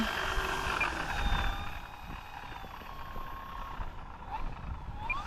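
FMS Pilatus PC-21 1100mm RC model plane taxiing, a continuous electric motor and propeller whine with rising and falling tones over background rumble, moderately loud and fairly close.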